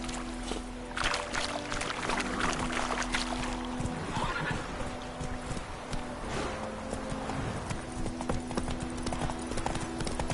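Horse hooves clip-clopping steadily in The Witcher 3 video game, a continuous rhythmic trot over a busy bed of ambient game sound and music, with no talk.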